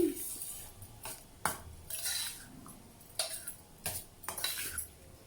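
A spoon scrapes and knocks against a pot while bottle gourd curry is stirred, making a series of distinct metallic clinks and scrapes at irregular intervals, fairly quiet, with a faint sizzle underneath.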